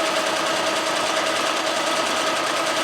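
A machine embroiders a design on a tote bag, giving a loud, steady, fast buzzing drone of rapid stitching that holds evenly throughout with no voices.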